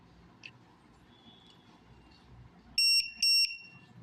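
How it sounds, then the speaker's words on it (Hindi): A drone battery charger in balance-charging mode gives two loud, high electronic beeps close together, heard alone after a few seconds of quiet room hum. "ये बीप का साउंड आएगा"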